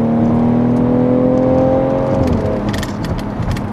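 A 2018 BMW X3 M40i engine drones steadily while cornering, then its pitch drops sharply as it downshifts, settling into a rougher, lower rumble with some road noise and faint clicks; loud and close from inside the cabin.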